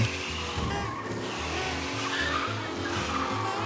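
Car in the Mafia video game skidding without traction, tires squealing continuously over a low droning engine for several seconds, loud and close.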